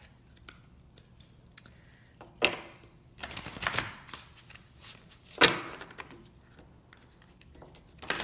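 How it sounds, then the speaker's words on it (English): Crystal oracle cards from a large deck being shuffled by hand, a few soft papery riffles and slaps spread across a quiet room with no talking. "we are going to pull a card from the big crystal deck"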